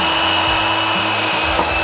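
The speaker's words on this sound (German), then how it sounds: "Wenn man Holz bohrt, verbranntes Holz ist einfach etwas Geiles." A power drill bores into wood, a loud continuous grinding whir with a slight change in pitch midway as the bit bites deeper, no voices over it.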